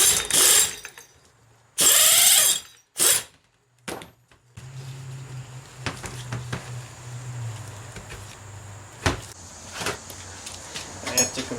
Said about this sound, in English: We're going to set up our compressor here.